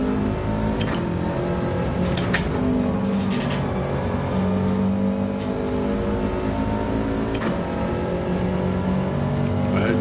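Race car engine droning hard around the Nürburgring in a racing video game, a loud continuous tone that rises and falls with shifts and throttle, close and alone for the whole stretch.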